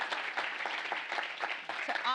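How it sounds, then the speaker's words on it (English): Audience applause at a fintech conference, a dense patter of clapping at moderate level with scattered voices mixed in. "let's give him a nice round of applause"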